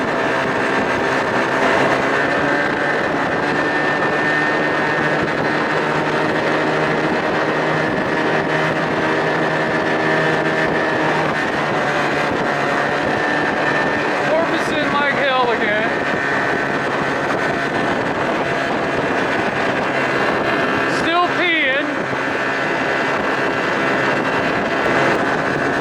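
A 2000 Johnson 25 hp outboard pushes a 13-foot Whaler at speed, a loud, steady engine drone mixed with wind buffeting, with two brief pitch wobbles midway through.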